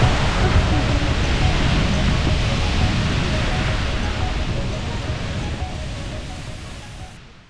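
Waterfall in Iceland, a broad continuous roar of falling water, loud and steady at first and gradually fading over the seconds, with no voices.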